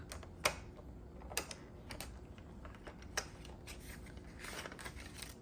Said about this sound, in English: let me cut the white edges off